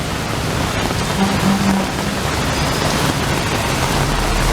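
Heavy rain pours steadily as a dense, even hiss that fills the whole stretch.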